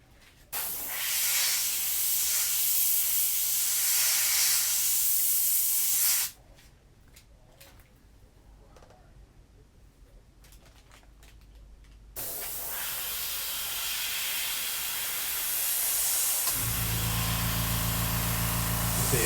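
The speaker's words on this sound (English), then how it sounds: "See, that sound is the sound of my compressor." Air compressor driving a spray gun while painting through a custom stencil in a studio: loud steady spraying hiss in two long bursts, dropping to a quieter low hum between them, with a deeper motor drone rising near the end.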